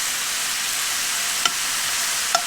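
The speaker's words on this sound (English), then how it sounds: "once your pan is ripping hot, throw in your beef" Thin slices of beef sizzle in a ripping hot pan, a loud, steady hiss close by with a couple of faint clinks.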